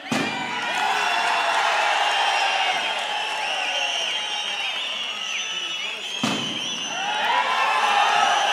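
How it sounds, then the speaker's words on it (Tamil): Firecrackers set off at a Tamil Nadu political party rally, a dense continuous crackle and popping with a sharp bang near the six-second mark, mixed with crowd cheering and whoops throughout. "நான் பேசும்போது அந்த வெடி வைக்கணும்னு நினைச்சாரு."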